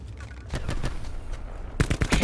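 Quick bursts of gunfire in the Black Ops 4 Blackout video game: several close, sharp shots in quick rhythm, with a louder cluster of shots near the end.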